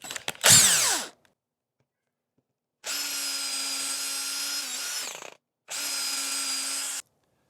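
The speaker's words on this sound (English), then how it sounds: "So pre-drill your holes." A power drill whirs in three bursts: a brief rising spin, then two sustained high-pitched runs drilling pilot holes into wood, separated by short silences, close up.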